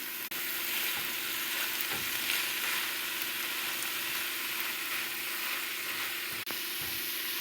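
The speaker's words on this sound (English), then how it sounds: "Toss in our cabbage and carrots and broccoli." Steady, loud sizzling of cabbage, carrots and broccoli stir-frying in a hot pan, with a few scraping stirs and light clinks, no talking.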